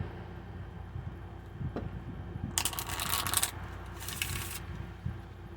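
A deck of cards riffled and shuffled nearby in two quick bursts, with soft handling and tapping noises around them, no talking.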